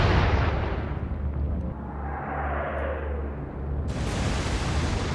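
Heavy naval gunfire in Atlantic Fleet: a deep booming blast rolls into a long low rumble, and a second loud bang with a wash of noise hits near the end.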